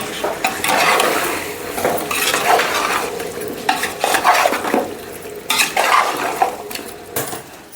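Chicken being stirred into gravy in a large pot for pulao, with a spoon scraping and clanking against the metal through repeated strokes over a wet, bubbling sizzle, close and fairly loud.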